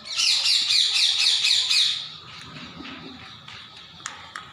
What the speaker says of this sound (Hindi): जहाँ तोते की आवाज़ आ गई है।